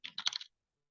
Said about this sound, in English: Just typing syntax.